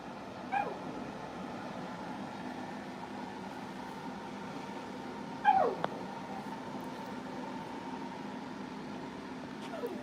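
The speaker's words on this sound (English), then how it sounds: "The dogs are all getting stressed." Stressed dogs whimper indoors: two brief, faint rising-and-falling whines, one near the start and one midway, over a steady low room hum.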